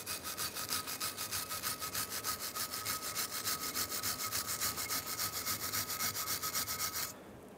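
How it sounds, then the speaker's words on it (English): A wire brush scrubs loose corrosion and grease from the brake hardware area of a 2007-2015 Mazda CX-9, giving a steady run of rapid, close, rhythmic rasping strokes for about seven seconds before stopping. "take a wire brush and we're going to clean in the area where our hardware sits"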